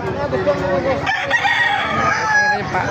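Several roosters crow at once at a market in Bocaue, their loud, overlapping calls filling the air close by with clucking and murmured voices beneath.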